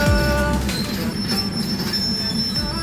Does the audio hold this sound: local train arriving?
yes